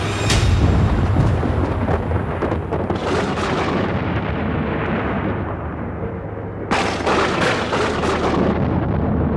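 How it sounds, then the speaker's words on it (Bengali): Several heavy thunderclaps crash in close succession during a horror story set in rural Bengal, a loud rumbling wall of sound with a sharp fresh crack near the end, no voices over it. "প্রচণ্ড শব্দ করে পরপর কয়েকটা বজ্রপাত ঘটল আশেপাশেই"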